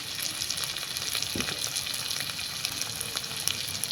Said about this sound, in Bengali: মশলার সঙ্গে টমেটোটাকে কষিয়ে নিয়েছি আর এই টমেটোটাও নরম হয়ে গেছে